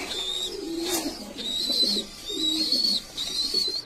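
Pigeons kept for sale, including Sirazi and Jacobin breeds, coo softly nearby in a series of short, repeated calls, with light rustling between them.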